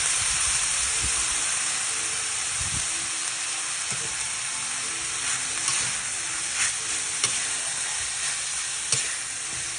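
Banana heart and onion stirred in a pan, sizzling and frying steadily throughout with soft scraping strokes, a close, continuous hiss with no talk over it.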